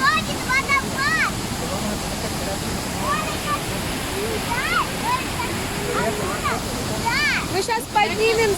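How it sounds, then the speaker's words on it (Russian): Steady rushing roar of a waterfall in Chiapas, Mexico, continuous and close, with people talking over it and birdsong chirping at intervals. "там еще один водопад"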